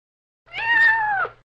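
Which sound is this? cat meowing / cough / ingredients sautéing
cat meowing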